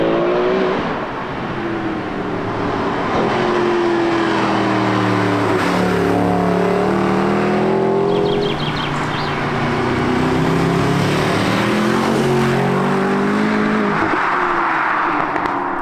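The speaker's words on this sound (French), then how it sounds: "on cruise tranquillement avec le bruit du V8 qui fait un bruit de péniche derrière" A Mercedes SLS AMG Roadster V8 cruising, its engine and exhaust giving a deep, loud, continuous burble that swells and eases with gentle throttle changes, heard close and alone.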